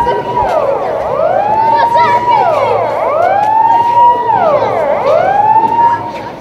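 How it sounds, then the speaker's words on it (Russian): Fire engine sirens wail in repeated rising and falling sweeps during a school fire drill, loud and close, with rumbling traffic underneath. "Размеренное течение школьного дня прервал вой пожарных сирен."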